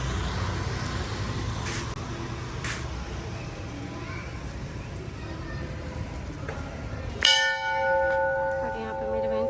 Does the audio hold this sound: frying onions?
no